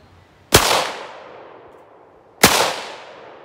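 Two single pistol shots from an FN Five-seveN or Ruger-57 at an outdoor target range, each a sharp loud crack with a long ringing decay, spaced about two seconds apart.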